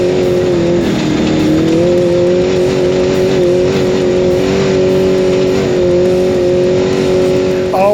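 Off-road race truck driving in the Baja 1000, a loud sustained engine roar heard from the cab with slowly shifting pitch and a brief voice near the end.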